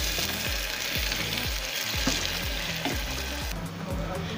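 Finely chopped onions, two large ones, sizzle steadily in hot oil for a mutton korma, with a spoon scraping and stirring through the pan in regular strokes beneath the constant hiss.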